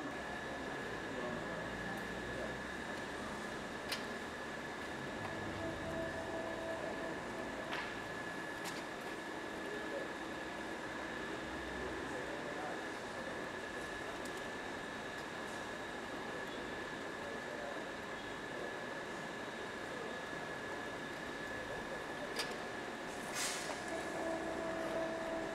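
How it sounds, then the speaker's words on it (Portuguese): A large-format printer runs a sheet at its maximum 32x45.7 size, giving a steady, continuous mechanical hum and whir with faint clicks, moderately close and unbroken throughout. "Alimentação por aqui, está imprimindo no formato máximo aqui"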